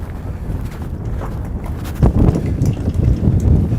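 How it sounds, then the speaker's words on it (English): Strong, gusty wind buffets the microphone outdoors on a cold day in Washington D.C., a steady low rumble that swells louder around the midpoint and keeps roaring to the end. "Let me get somewhere where I can be sheltered from this horrible wind."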